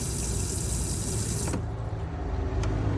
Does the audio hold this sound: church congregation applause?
no